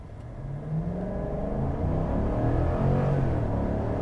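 A 2022 Chevrolet Silverado High Country pickup accelerates at full throttle on a slight uphill, its engine rising in a loud, smooth rumble that builds steadily over four seconds, heard from inside with no talk.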